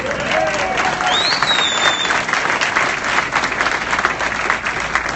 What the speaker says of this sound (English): You should give him a round of applause